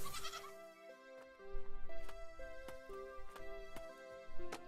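Sheep bleating in the video game Crea, wavering harmonic bleats repeating over a steady game soundtrack with sharp clicking ticks, moderately loud and with no talk.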